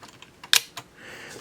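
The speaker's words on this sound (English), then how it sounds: "this button right here will trip the shutter" Graflex Speed Graphic 4x5 press camera shutter tripped once, a single sharp mechanical snap with a few faint handling clicks around it, close and alone.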